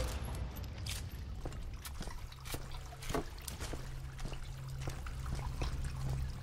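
Water splashing and trickling on both sides in the Deadfall Adventures video game, a steady pouring wash with scattered sharper splashes and a low hum underneath, fairly close and moderately loud.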